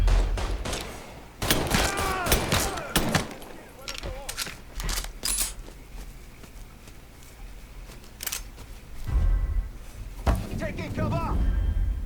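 Mafia III gunfire erupts in loud, close bursts of rapid shots separated by brief gaps, mixed with in-game voices and a continuous background rumble.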